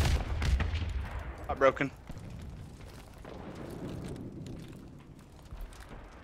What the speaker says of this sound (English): watch out for my nade, watch out for my nade